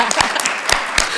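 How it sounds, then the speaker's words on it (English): Brief applause from a conference audience in the ECOSOC Chamber at UN headquarters, a short scattering of claps heard nearby. "A hand of applause, maybe?"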